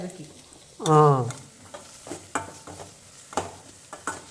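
Okra fries in a pan, a soft steady sizzle under stirring scrapes and light clatter, with a brief voice at the start.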